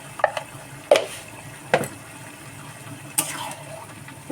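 A spoon stirs tilapia and potato curry in a pan, giving a few sparse, quiet scrapes and clinks spaced about a second apart, with soft bubbling in between and no talking.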